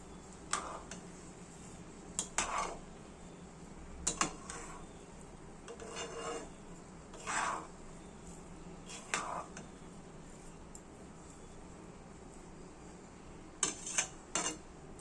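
Sugar is stirred into a pot while cooking, producing scattered scraping clicks and taps of a utensil against the pot in an uneven rhythm over a steady low background hum.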